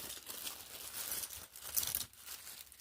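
Plastic toy packaging from a Predaking combiner figure set is hacked open with a toy sword, producing faint, close crinkling and tearing that carries on steadily for a few seconds.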